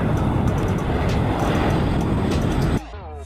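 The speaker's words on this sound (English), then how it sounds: "Fire bomber aircraft." A fire bomber aircraft passes with a loud, broad roaring rush of engine noise that holds steady, then cuts off abruptly near the end, leaving a faint whistling tail.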